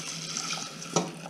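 Tap water runs steadily into a pot for cooking pearl barley in a home kitchen, a continuous close hissing splash with a brief louder gush near the end.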